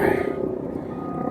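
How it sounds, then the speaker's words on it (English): A helicopter passes overhead, its low rotor thrum steady and fairly loud for a second, heard while someone talks in a parked car. "Sorry about the helicopter."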